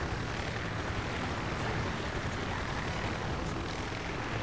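A loud, steady engine drone inside the Jack Keane adventure video game, a continuous broadband roar like an aircraft or propeller engine that holds even throughout, with no talk over it.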